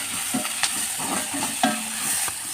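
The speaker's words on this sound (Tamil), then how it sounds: "1 கப் வெங்காயம் நல்லா வதங்கட்டும்" Onions and tomato sauté in a pan for a Tamil sundakkai kootu, a close, steady sizzle broken by quick scraping stirs of a spatula against the metal.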